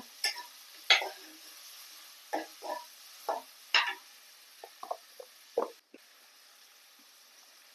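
Tomatoes going into a pan for black chana gravy, with a faint, quiet sizzle and intermittent scrapes and clinks of stirring at irregular intervals. No one speaks.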